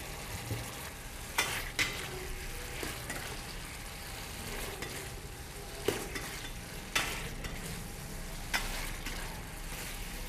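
Pork ribs frying in a pan with coconut milk make a dense, steady sizzle, with occasional louder scrapes and stirs of a utensil against the pan.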